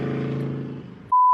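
A truck rumbles past a parked car with its windows down, a heavy engine drone that fades out, then a sharp steady beep cuts in at the end.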